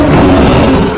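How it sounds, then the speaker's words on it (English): A tiger lets out a loud, sustained growling roar lasting about a second, close and alone with no other sounds. "A tiger roars."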